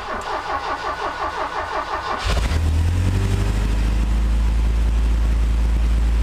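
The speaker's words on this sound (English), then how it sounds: "I swear to you, that is the first time I have attempted to start this car." A 1971 Opel Kadett with a Megasquirt EFI conversion cranks for about two seconds with a rhythmic starter whirr, then catches and settles into a steady, loud, low idle, recorded close with no talking.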